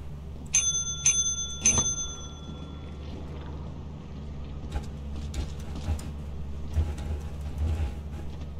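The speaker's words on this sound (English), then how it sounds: "I should probably press the bell" A bell pressed in the video game Lethal Company rings three times in quick succession near the start, bright and ringing, then fades into low background rumble and scattered faint clicks.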